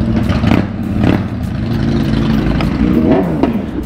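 A vehicle's engine revs loudly nearby, rising in pitch as it pulls away, with a rough, continuous roar through the whole stretch and no speech.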